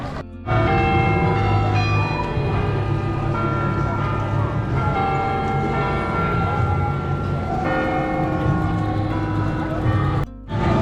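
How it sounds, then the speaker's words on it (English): Bells in a bell tower in Jefferson ring continuously with layered metallic tones over a noisy outdoor bike-ride crowd, loud and sustained for several seconds before cutting off abruptly. "Here's the bell tower I was telling you about."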